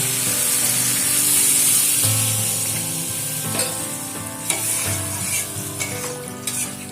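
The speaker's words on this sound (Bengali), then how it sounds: "এবারে এর মধ্যে দিয়ে দেবো পরিমাণ মতন জল" Water goes into a hot pan of pointed gourd and prawns that has been cooking down, raising a loud close sizzle and hiss along with stirring scrapes and a few sharp clicks, with no voices.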